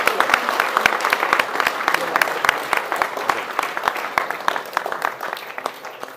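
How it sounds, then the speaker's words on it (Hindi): A crowd at a political gathering applauds, with dense, continuous clapping that stays steady and fairly loud throughout before easing slightly at the end. "दिल से तालियां बजाएं ताकि पता चले"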